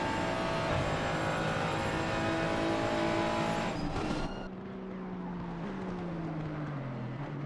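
Aston Martin and Ferrari race cars at Suzuka in a racing video game: a loud, steady engine roar at high revs, then an abrupt drop to a lower, fading drone as the cars shift and run on, with no voices.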